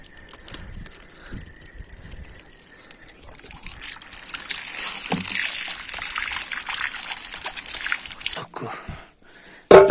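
Muddy bracken fern leaves being washed by hand in water in a Nepali village kitchen, with soft trickling and sloshing that grows busier and louder midway, and people talking over it.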